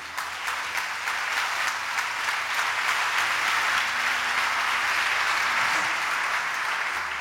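An audience at a church sermon breaks into sustained applause, a dense, even wash of clapping that holds steady for several seconds, loud and close, with no voices standing out.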